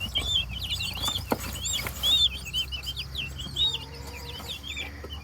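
Backyard chickens and six new baby chicks on a homestead, high chirping peeps running throughout over softer clucks, fairly close with steady low background hum.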